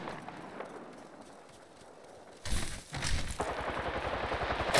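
Gunfire in the shooter Apex Legends breaks out partway through after a quiet stretch, rapid loud bursts of automatic shots close by, continuing to the end with no talk.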